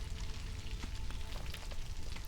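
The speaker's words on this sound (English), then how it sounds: "sound of the rain to be quite soothing" Soft, steady rain ambience in a video game, a faint continuous patter of drops on surfaces with low background hum, no talking.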